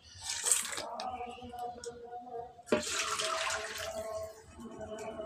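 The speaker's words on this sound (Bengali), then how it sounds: "আর এতে একটুখানি জল দিয়ে দেব।" Water poured into a cooking pan of crab and kulekhara greens: two short splashing pours with lingering sizzle between them, close and moderately loud.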